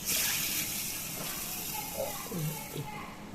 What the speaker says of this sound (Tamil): இப்ப இந்த பயரை நல்லா அலம்பி எடுத்துட்டு இருக்கேன்